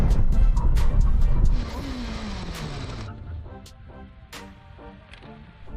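A BMW M5 CS and a BMW M1000RR superbike brake hard from 100 mph, loud engine and tire roar falling away quickly, then a quieter engine note settling at the end.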